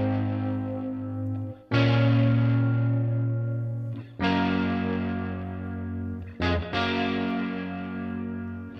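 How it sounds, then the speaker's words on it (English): Dry electric guitar with no delay, strummed chords played through a distorted amp, several loud sustained strikes that ring out and fade before the next, close and alone. "let's take a listen to the original without any delay on it."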